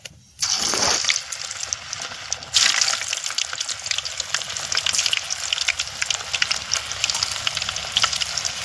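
Bitter gourd pakoda dropped into hot oil, a sudden burst of dense, loud frying hiss that rises again a moment later and then bubbles on steadily.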